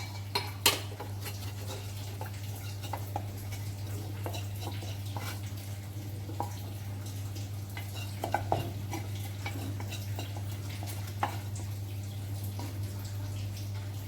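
A spatula scrapes and gathers jowar flour dough in a hot pan, loosening what sticks to the bottom; intermittent scraping clicks and metal taps ring over a steady low hum, close and moderately loud, with no talking.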